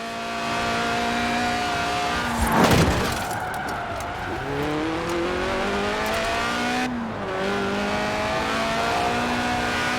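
Lotus Elise Sport 190 with a 1.8-litre engine revving toward 8,000 RPM in Forza Horizon 4, a loud, close engine note that rises in pitch, drops sharply with a brief tyre screech, then climbs again steadily through the gears.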